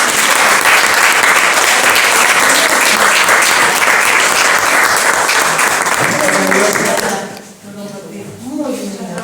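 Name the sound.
audience applause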